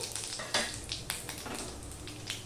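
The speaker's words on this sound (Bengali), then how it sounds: "এবার আমি একটা শুকনো লঙ্কাকে 2 ভাগ করে তেলের মধ্যে দিয়ে দিলাম।" Halved dried red chili and Bengali five-spice tempering sizzle in hot oil for a mango pickle, making a soft continuous frying crackle with small irregular pops and scrapes throughout.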